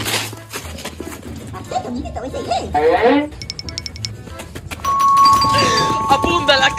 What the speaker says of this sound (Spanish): Amiguito Chanchi, mira un timbre allá atrás.